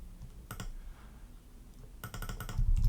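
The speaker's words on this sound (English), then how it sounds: "This was the code for the mouse click." Computer keyboard clicks while code is copied during a live coding session: a short burst of keystrokes, then a pause and a denser cluster of faint, close typing clicks.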